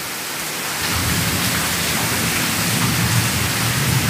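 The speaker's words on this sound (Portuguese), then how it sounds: "E aí começou a chover, gente." Heavy rain pours down steadily in Itapura, São Paulo, a dense continuous hiss with low thunder rumbling underneath, loud and close throughout.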